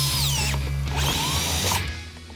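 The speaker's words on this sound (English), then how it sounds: "I'll drill a hole in the door panel for the switch" A power drill bores a hole through the door panel of a third-generation Dodge Ram Cummins pickup, a loud, steady, close whine with the bit grinding through before winding down near the end.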